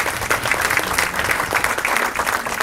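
An audience applauds at a mayor's New Year address in Ruaudin, 2018, giving dense, steady clapping that fills the room throughout, loud and sustained with no voices over it.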